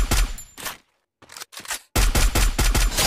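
Bursts of automatic gunfire from an enemy player in a Free Fire-style battle royale game, loud rapid volleys with a brief pause in the middle before a final sustained burst.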